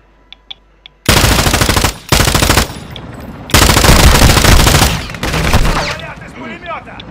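Heavy automatic gunfire in Call of Duty: Modern Warfare II DMZ, loud sustained machine-gun bursts near an extraction zone, several long volleys separated by short gaps, with radio chatter between them.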